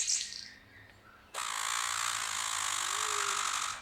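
After a short chirp, a King of Saxony bird-of-paradise gives a loud, sustained buzzing rasp like mechanical static, an unusual electric call held steadily for a few seconds.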